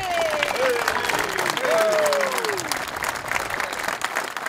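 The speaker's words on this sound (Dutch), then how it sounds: "ik wil graag een groot applaus voor deze vreugde ploeg" Applause rises from a crowd gathered at a boatyard as the crew who built the boat is honored, a sustained, fairly close clapping with a voice over it.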